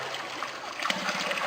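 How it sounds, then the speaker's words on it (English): Water rushes and trickles through pipes after a down valve is opened, a soft continuous gurgling flow with small splashy bursts, faint and steady throughout. "when we open up the down valve, all the water goes down the down tank"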